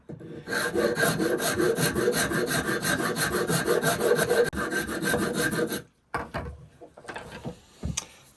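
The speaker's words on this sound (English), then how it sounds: "just sand these lines out" Rough shaping of a wooden mallet with hand sanding, a loud close rapid back-and-forth rasping for about six seconds, then a pause and a few shorter strokes.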